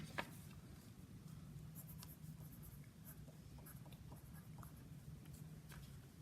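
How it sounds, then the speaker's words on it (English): A pen or pencil scratching on paper during a spelling lesson, soft continuous writing strokes with small taps, faint against a low steady background hum. "Go ahead and write it on the back."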